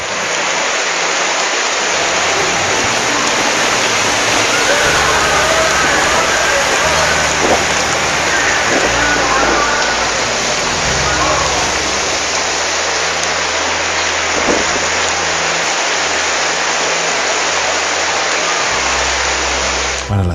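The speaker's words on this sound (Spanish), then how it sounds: "La inundación se hacía presente en algunas calles del municipio." Floodwater rushes through the streets of Xalisco, Nayarit, during a severe storm, with the overflowing El Indio creek adding to a loud, continuous roar of water and rain. Faint low rumbles sit underneath, with no clear voices.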